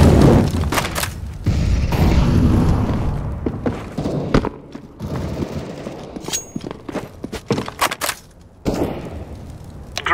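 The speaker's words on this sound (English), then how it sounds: "Flashbang." A flashbang grenade goes off in Counter-Strike: Global Offensive, a loud boom and rumble that fades into scattered sharp game gunshots and thuds, with the action continuing close by.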